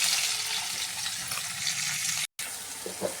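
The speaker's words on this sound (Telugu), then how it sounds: "ఇలా ఆయిల్ బాగా హీట్ అయ్యాక ఇందులోకి ఇప్పుడు మనము ఆనియన్, పచ్చిమిర్చి వేసేద్దాం" Onion and green chillies fry in hot oil, giving a steady, close, bright sizzle that runs throughout with only a brief cut near the end and faint stirring clicks.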